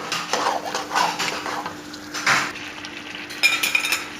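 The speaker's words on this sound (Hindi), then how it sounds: "अब इसके अंदर हम ऐड करेंगे दही।" Fried chicken stirred with whisked yogurt in a pan for an achari chicken curry: scraping spoon strokes and light metallic clinks over a soft sizzle, close by, with no speech.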